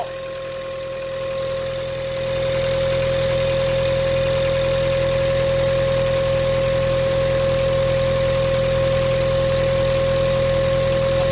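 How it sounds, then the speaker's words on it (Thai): A Ford Ranger engine with a replaced, modified turbo idles and then rises in revs, its steady mechanical drone carrying a sustained whistling turbo whine, loud and close throughout. "พอเร่งเครื่องมันก็จะมีเสียงลมจะวู้ ขึ้นมาทันทีเลย"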